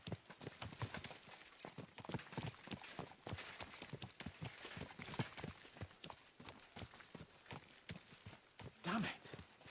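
Horse hooves clip-clop at a brisk gait in Kingdom Come Deliverance 2, a dense, rapid patter of hoofbeats under soft ambient noise, with a brief snort or whinny near the end.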